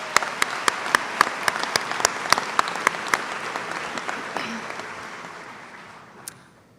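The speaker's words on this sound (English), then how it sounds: "I think it deserves another round of applause" Applause at a spring 2019 college associate degree commencement ceremony: a large crowd claps steadily with sharp individual claps standing out, then the sound gradually fades toward the end.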